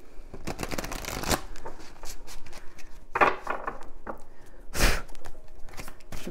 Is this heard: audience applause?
no